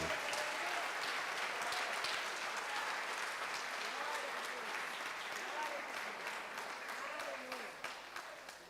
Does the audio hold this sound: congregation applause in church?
yes